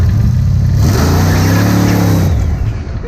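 Turbocharged, nitrous-fed 500 hp rat rod engine revving hard during a tire burnout in a driveway, a loud sustained roar that climbs and holds high before dropping off near the end, with no talking.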